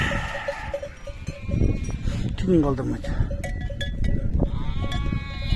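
Sheep and goats bleat on a winter farm, with several wavering calls over a busy barnyard background, and someone talks briefly amid the animals.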